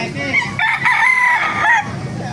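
A pumpkin sweater gamefowl rooster crows close and loud in a single full call at a busy Philippine market. Faint crowd noise sits beneath it.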